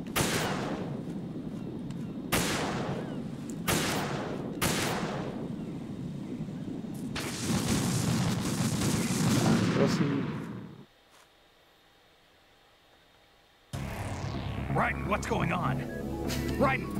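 Sniper rifle shots in Metal Gear Solid 2, several loud, sharp reports a second or two apart with booming tails, then a long sustained roar, a near-silent gap, and renewed game noise with a voice speaking.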